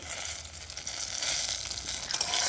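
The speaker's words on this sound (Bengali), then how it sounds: "বেগুন ভাজা চলছে।" Brinjal (eggplant) fries on a wood-fired stove, a close, steady crackling sizzle of oil that swells and flickers slightly without any talk.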